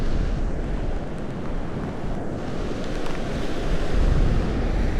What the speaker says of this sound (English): It's pretty windy too.